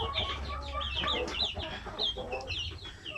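Native chickens cluck and chatter in a farmyard, a busy cluster of short, overlapping calls from several nearby birds over a low background hum.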